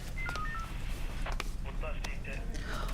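Short dual-tone telephone keypad beeps sound in quick succession over a noisy background with voices talking.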